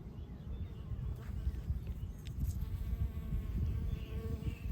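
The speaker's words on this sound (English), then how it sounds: "And the bees are in full force." Bees hum low and steady close by in a garden, a soft continuous drone with small swells as insects drift near, in an otherwise quiet outdoor setting.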